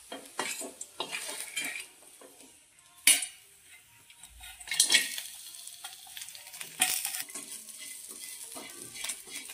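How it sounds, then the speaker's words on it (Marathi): Grated coconut dry roasting in a pan for misal, with repeated metal spatula scrapes and clinks against the pan over a faint sizzle, up close and without talk. "आता खोबरं नुसतं भाजून गेलं।"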